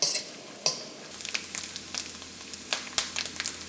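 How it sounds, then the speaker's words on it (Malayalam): Coconut pieces fry in ghee in a pan for a Kadala parippu pradhaman, giving a soft steady sizzle broken by several sharp stirring scrapes and clinks, close and fairly quiet. "ഏറ്റവും ആദ്യം തന്നെ നമുക്ക് തേങ്ങക്കൊത്ത് വറുത്തെടുക്കാം"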